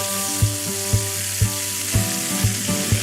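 Zucchini frying in a pan with anchovies and garlic gives off a steady hiss, broken by regular soft knocks as the food is stirred.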